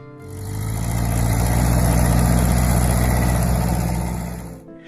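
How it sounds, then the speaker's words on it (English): A Ferguson TE20 tractor, the Little Grey Fergie, runs with a steady mid-pitched engine drone that fades in, holds loud and close at an even idle-like throb, then cuts off near the end. "it was the Ferguson TE20, or as people affectionately called it, Little Gray Fergie."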